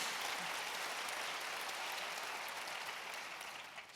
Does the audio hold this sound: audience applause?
yes